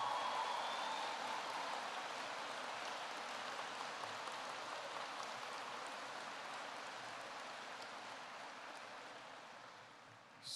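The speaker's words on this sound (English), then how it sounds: "so let's give her a big round of applause" Audience applause at a ringette championship closing ceremony, a steady wash of clapping that holds throughout and fades slightly toward the end.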